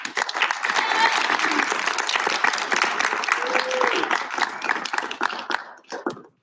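An audience gives loud, sustained applause after a TED talk, thick overlapping clapping with a few voices in it, tapering off and cutting out at the end.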